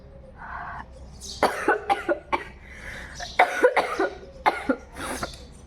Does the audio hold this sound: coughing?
yes